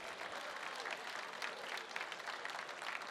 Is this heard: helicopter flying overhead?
no